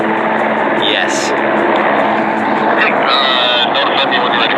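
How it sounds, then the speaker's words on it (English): A remote control helicopter takes off, its steady, loud whirring rotor and motor noise running throughout, with a few brief higher-pitched whines rising over it. "We need to do a remote control helicopter test."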